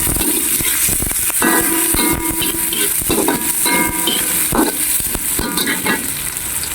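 Onions and garlic stir-frying in a pan, a steady loud sizzle and hiss broken by repeated scraping and clinking from a utensil stirring against the pan, close up with no talking.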